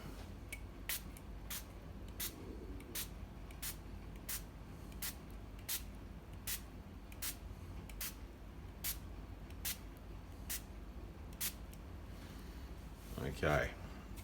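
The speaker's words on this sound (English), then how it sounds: "So we need to do 15 sprays." A handheld spray bottle mists water onto a mushroom grow kit indoors in about fifteen quick, evenly paced pumps, each a short sharp spritz, followed by a brief rustle.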